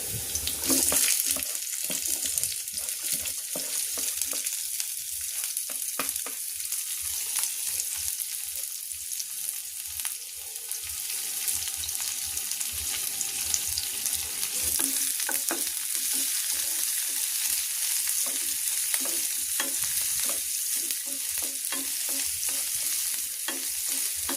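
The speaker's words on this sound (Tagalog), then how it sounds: "Lutuin yung ating adobong kangkong. Kaya na natin ito sibuyas." Onions frying in a pan for adobong kangkong give a continuous close sizzle, with intermittent stirring scrapes across the whole stretch and no voices.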